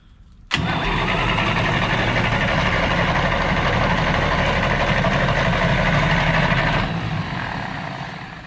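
A big engine in a 1954 International truck, unused for 30 years, cranks and catches abruptly, then settles into a loud, steady rumbling idle that holds, tapering slightly near the end.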